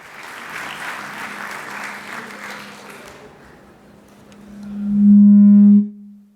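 An audience at the EU Development Days 2019 opening ceremony applauds in a steady, full round for about three seconds to welcome President Juncker, then the clapping fades and a loud sustained tone swells up alone.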